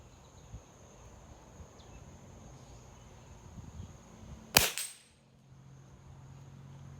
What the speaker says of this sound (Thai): นัดแรกขอยิงเป็น เพจตัวใหญ่ก่อนนะครับเพจใหญ่ อยู่ล่างสุดนะครับ สีแดง